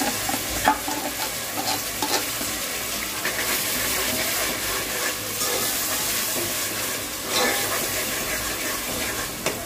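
Onions and tomatoes sautéing in oil for Chettinad chicken masala, a steady close sizzle with scraping stirring strokes throughout, no talking.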